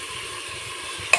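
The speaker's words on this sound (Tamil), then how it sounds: "வெங்காயம் வரமிளகா கருவேப்பிலை போட்டு நல்லா வதக்கணும்." Onion, dried red chili and curry leaves sautéing in hot oil for a chicken gravy: steady close sizzle with a single sharp stir click near the end, no talk.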